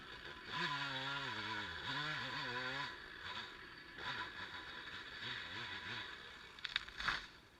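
A chainsaw revs through a back cut while felling a tree, the engine note rising and falling in uneven bursts, distant and fairly faint with pauses between cuts.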